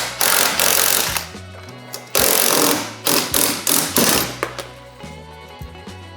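Bursts of a power tool driving out the skid mounting bolts on a 2011–2025 Polaris snowmobile, loud and close, with several rattling run-ups separated by short pauses.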